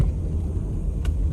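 Steady low road rumble from inside a moving car, continuous and fairly loud, with one brief faint click partway through and no talking.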